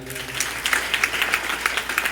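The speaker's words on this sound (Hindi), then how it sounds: "हम चाहेंगे कि उन्हें भी संघ के लिए जबरदस्त ताली हो जाए" An audience claps for their guru at a gathering. The applause is rhythmic and fairly close, with distinct hand-claps standing out from the wash, and a voice is briefly heard at the start.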